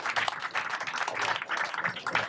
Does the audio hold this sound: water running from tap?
no